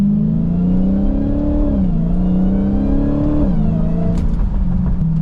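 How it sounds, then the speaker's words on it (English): A 2023 Dodge Challenger Hellcat Redeye Widebody engine given light throttle in first gear, with a steady loud supercharged drone that rises and dips gently in pitch, close and continuous without talk. "we'll go ahead and give it just a little bit of gas, nothing too crazy"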